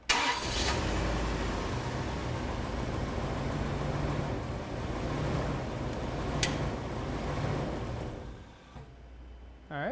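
A car with an intermittent stall fault, run without its crank sensor, cranks and fires up into a steady loud engine drone that holds for several seconds, then dips near the end.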